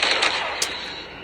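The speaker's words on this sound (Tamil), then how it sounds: "சிங்கிள் ஷாட் கன் வச்சிருக்காங்க." A single-shot gun fires in a mobile game played on a OnePlus 10R, giving a brief burst of game gunfire over a dense, noisy background.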